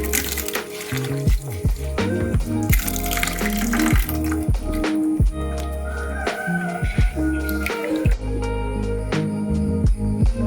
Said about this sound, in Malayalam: ഇനി രണ്ട് കപ്പ് വെള്ളം ഒഴിച്ച് നമുക്ക് ഈ തേങ്ങാപ്പാൽ പിഴിഞ്ഞെടുക്കാം